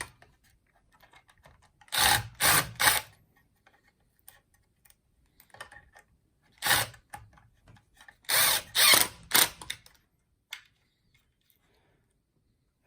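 A power drill drives screws into a plastic side fairing on a Levy electric scooter in short bursts: a quick triple burst, a single burst, then another cluster of whirs, each close and separated by quiet pauses.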